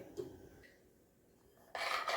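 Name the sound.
stirring heating salt in a pan with a spatula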